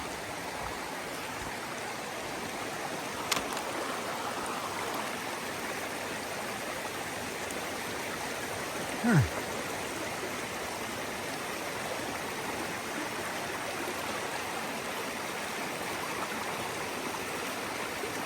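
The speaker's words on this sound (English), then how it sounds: "Didn't know I had to cross the stream here." A mountain stream flowing on a hiking trail, a constant broadband rush of water that holds steady and moderately loud throughout, with a couple of brief knocks and no talking.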